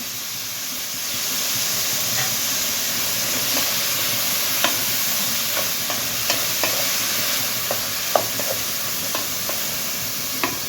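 Cluster beans and rajma being stirred in a pan for a masala curry, a soft continuous sizzle and hiss with intermittent spoon clicks and scrapes that become more frequent toward the end.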